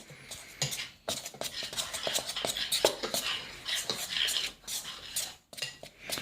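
Pizza dough mixture with olive oil being stirred in a bowl, uneven scraping and clinking strokes of a utensil against the bowl, close and fairly quiet, with brief pauses between bursts.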